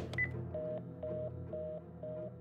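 A short series of touch-tone telephone beeps, evenly spaced, clean and fairly quiet, with no speech.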